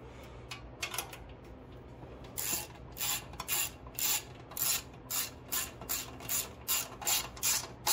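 Nuts being tightened with a ratchet during a gasoline-to-propane conversion of a Powerhorse 9000ES generator, a run of rhythmic close clicking bursts that grows more regular and continues throughout.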